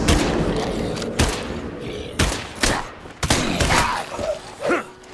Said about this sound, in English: Oh, yo, what am I shooting? A BB gun?